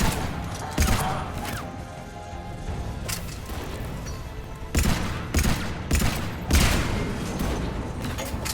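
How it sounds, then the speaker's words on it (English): Pistol gunfire from the Mass Effect 3 video game: several sharp, loud shot bursts spaced irregularly over a dense, continuous game soundscape, with the heaviest cluster of shots near the end. "Damn, I love this pistol."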